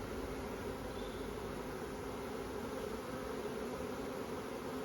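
A steady, dense buzz of many honeybees hums without a break, close and even, at a busy hive.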